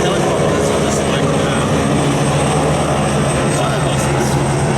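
A black helicopter flies low over busy Parramatta Road, a loud steady engine and rotor drone filling the whole stretch alongside traffic rumble.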